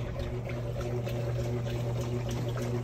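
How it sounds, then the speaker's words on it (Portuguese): Electrolux washing machine filling with water for its rinse cycle, a steady soft rush and trickle of inflowing water over a constant low mechanical hum, fairly faint and unbroken. "Máquina tá liberando água para começar o enxágue."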